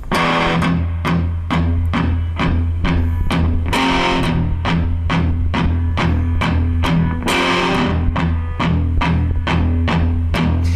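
Distorted electric guitar plays a verse riff, a fast chugging run of tight palm-muted hits with a few longer ringing chords, loud, close and continuous, no talking.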